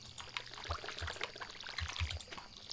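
A watering can pours water in the Stardew Valley farming game, a faint, soft trickle with a few small splashy bursts, heard alone without talking.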